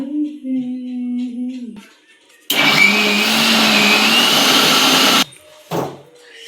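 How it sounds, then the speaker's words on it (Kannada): An electric mixer grinder grinds soaked urad dal and beaten rice for idli batter, a loud, dense whirring burst of about three seconds set between quieter humming and a brief clatter afterward. "ಇವಾಗ ಉದ್ದಿನಬೇಳೆ ಮತ್ತು ಅವಲಕ್ಕಿನ ಮಿಕ್ಸಿಗೆ ಹಾಕೋಣ"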